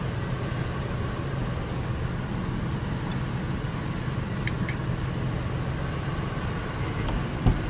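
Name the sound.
Ford E250 work van engine running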